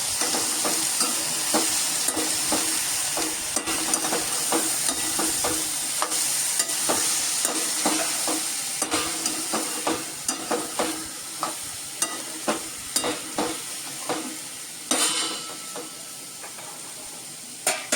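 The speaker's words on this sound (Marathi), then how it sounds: "आता आपण हे सगळं व्यवस्थित ढवळून घेऊया." Padwal (snake gourd) and dalimbi (field beans) fry in a pan while a spoon stirs them, giving a steady sizzle broken by repeated scraping clicks that come faster and sharper toward the end.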